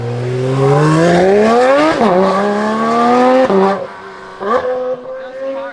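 A Porsche GT3 sports car accelerates hard nearby with a loud, rising high-revving engine wail, shifting gears twice with sharp dips in pitch before the sound fades as it pulls away.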